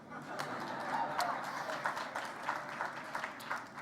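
An audience at an awards event applauds, a steady wash of clapping that lasts several seconds at moderate volume, with a voice speaking over it.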